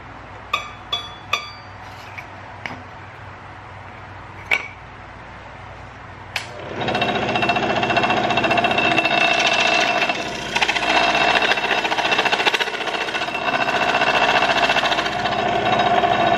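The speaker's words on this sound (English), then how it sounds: "A scroll saw will do a good job on that." Power saw cutting wood for a custom license plate holder, a scroll saw working into fine detail; a loud steady buzzing runs for about ten seconds after several short knocks and taps near the start.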